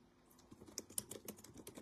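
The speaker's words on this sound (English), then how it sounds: "So I can touch type without looking at the keyboard." Touch typing on a computer keyboard, a faint quick patter of clicking keystrokes in an irregular rhythm, close and quiet, with no talking.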